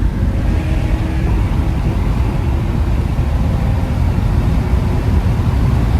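A Lexus GS430 running with no catalytic converters pulls hard with a loud, steady, raw engine roar. The sound stays dense and constant, heard from inside the car, with no talking.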